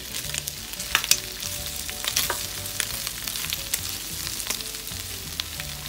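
Vegetables going into a hot pan for a homemade chow mein with beef, chicken and shrimp, frying with a steady close sizzle broken by scattered crackles and spatters, no voices.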